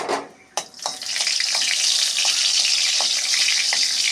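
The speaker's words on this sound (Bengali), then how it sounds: "কড়াই গরম হয়ে গেছে, পরিমাণ মতন তেল দিচ্ছি।" Oil poured into a hot kadai (wok) to fry bitter gourd, potato and water spinach. It gives a loud, close, steady sizzling hiss that starts after a sharp clink and keeps going, with no talking.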